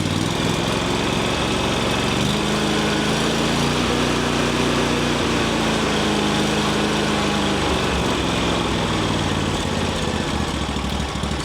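Briggs & Stratton 23HP EFI engine ticking over at a steady, loud idle after dropping off full throttle, with a continuous low drone and faint mechanical rattle throughout.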